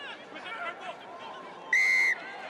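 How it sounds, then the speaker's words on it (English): A referee's whistle gives one sharp, shrill blast lasting under half a second at a professional rugby match between Ospreys and Connacht, cutting through the steady murmur of the stadium crowd. "Kieran Hardy just waiting for the whistle."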